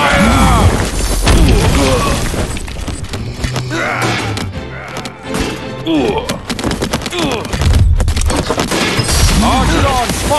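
A dense, loud barrage of rapid impacts and thuds from archers firing volleys of arrows in the Stick War Legacy battle game, continuous and layered, with a game voice calling out over the din.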